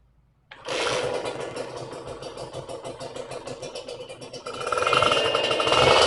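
A Kawasaki Ninja two-stroke motorcycle engine with a clogged radiator starts after a short quiet pause, catching into a loud, buzzy, uneven idle that rises in intensity near the end.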